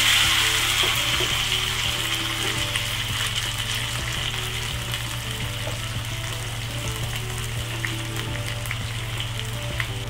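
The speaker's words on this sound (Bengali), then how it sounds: "তেলটি গরম হয়ে গেছে। এবার আমি এর মধ্যে কতগুলি রসুন দিয়ে দিলাম।" Garlic and coriander leaves fry in hot mustard oil with a loud, continuous close sizzle and crackle, with a few faint stirring clinks and no talk.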